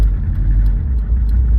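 A tuned Subaru engine that has had compression work runs at a steady, loud, low rumble. The droning continues without a break and no one speaks over it.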